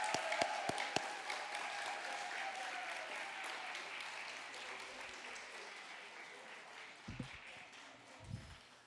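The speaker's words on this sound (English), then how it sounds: "Can we give a round of applause for all of those wonderful films" Audience applause fills the room after a festival screening of films, a dense, steady crackle of many hands clapping that slowly tapers, with a few louder claps near the start and brief thumps toward the end.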